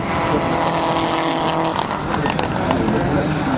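A rally car's engine roars loudly and continuously on a stage of the McRae Rally Challenge 2025, with a commentator's voice running over it.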